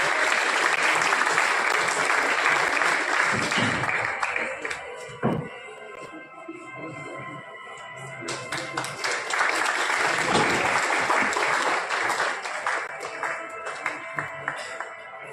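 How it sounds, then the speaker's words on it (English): Audience applause fills a college valedictory session hall, steady crowd clapping with a few thumps, briefly dipping midway before swelling again, while a voice speaks over it. "Everyone, a big round of applause, please."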